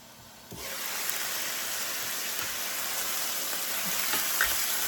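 Chicken breast pan frying, a steady bright sizzle that begins abruptly after a quiet half second and holds evenly loud, with a few faint clinks and spatters.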